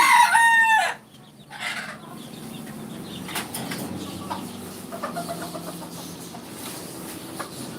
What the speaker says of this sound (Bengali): গলা ছিল মোরগ ওই যে উপরে দাঁড়িয়ে আছে বন্ধুরা